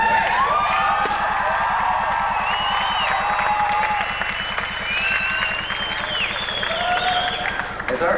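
A crowd at a 1994 college commencement ceremony applauds steadily, with scattered cheers and whistles rising over a sustained wash of clapping in a large hall.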